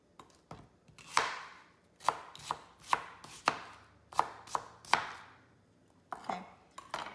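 Knife chopping onion into square pieces on a cutting board for pinakbet, a series of sharp, close wooden thunks in irregular bursts, loud and alone without talk.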